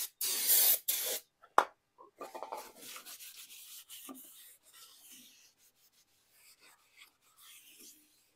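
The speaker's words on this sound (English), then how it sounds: "we're going to take some of this brake cleaner, spray it down, and wipe it down on both sides" A couple of sharp aerosol brake cleaner spray bursts, close and loud, followed by softer rubbing and wiping strokes that fade into quiet scrubbing, while cleaning rear brake parts on a Nissan Altima.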